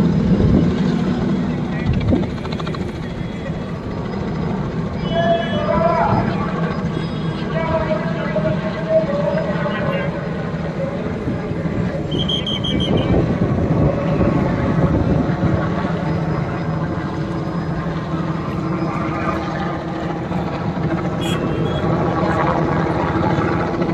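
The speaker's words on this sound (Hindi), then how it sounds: "हेलीकॉप्टर से फूल बरसा रहे हैं।" A helicopter showering flowers over a temple construction site drones steadily, loud and continuous, with people talking over it.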